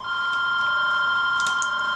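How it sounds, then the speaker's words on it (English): A mobile phone rings in a steady electronic tone, loud and close, holding for about two seconds with a brief chirp near the end. "My phone is ringing."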